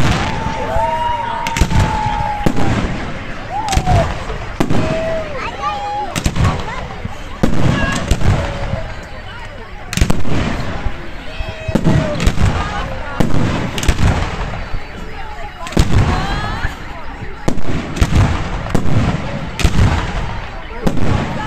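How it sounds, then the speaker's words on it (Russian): Fireworks display ending a City Day celebration in Nevelsk, with repeated booms and crackling bursts at an irregular rhythm, mid-distance, while crowd voices and talk carry underneath. "Завершилось празднование Дня города праздничным фейерверком."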